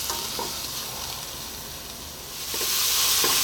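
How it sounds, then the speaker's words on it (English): Onions dry-fry over lively heat in a hot pan for an Ethiopian cabbage and potato dish, a close continuous sizzle with a few stirring scrapes, swelling louder near the end. "I want to kind of dry these onions out just a little bit."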